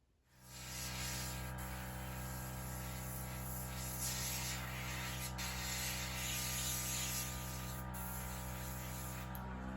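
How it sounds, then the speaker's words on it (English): An air compressor feeds a spray gun painting a ship model, giving a steady close hiss with a low motor drone underneath that holds without a break. No one speaks. "Trying to paint a model. Huh? Using an air compressor, which I'm not very good at."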